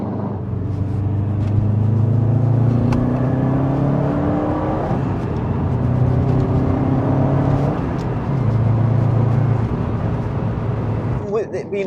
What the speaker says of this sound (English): you still do get that Subaru burble that they are famously, you know, they're known for